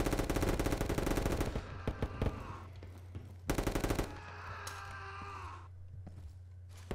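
Automatic gunfire in the Roblox shooter Operation Scorpion: a long rapid burst, a few scattered single shots, then another short burst, loud and close, with fainter game sounds in the gaps.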